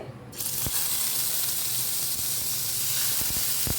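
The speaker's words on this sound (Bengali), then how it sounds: "মাছগুলো এবার আমি ছেড়ে দিলাম এপিট ওপিট করে বেশ ভালো করে হালকা একটু ব্রাউন কালার পর্যন্ত আমি মাছগুলো ভেজে নেব" Hilsa fish pieces go into hot mustard oil, and a sudden loud hiss bursts up and holds as a dense, continuous sizzle close by, broken by a few soft knocks. No one speaks.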